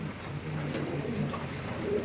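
Andhra Kalanka pigeons coo nearby in soft repeated low throaty calls, several rolling coos overlapping against a quiet background.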